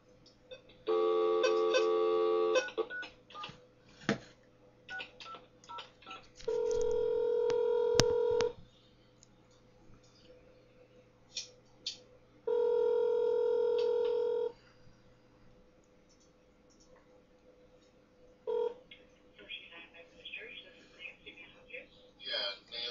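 Touch-tone dialing beeps sound while placing a phone call to a church, with bursts of tones separated by pauses and quiet talk in between.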